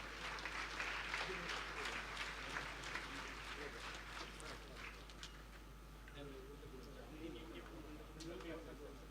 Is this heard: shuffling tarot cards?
no